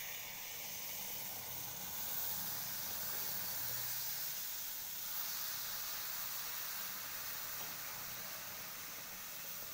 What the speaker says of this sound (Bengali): এবার চাটা ঢেলে দিচ্ছি।